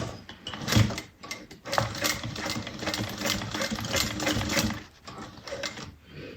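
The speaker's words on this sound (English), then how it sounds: "we're going to top stitch all 3 sides" A sewing machine top stitches the sides of a Jasmine bag, its needle running in a fast, steady mechanical chatter close by, with brief pauses and uneven bursts of speed.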